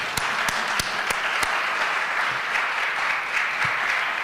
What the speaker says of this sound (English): why don't we give our elegance quartet, who today is a trio, a big round of applause